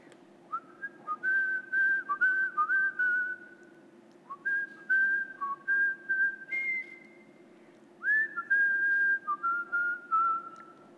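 Someone whistles a song, a solo melody in short bright phrases with brief pauses between them over a quiet background hum.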